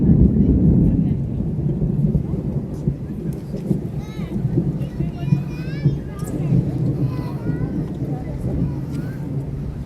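Low thunder rumbles steadily through an evening at Walt Disney World near the Skyliner and Friendship Boats, a broad deep roll beneath people talking nearby.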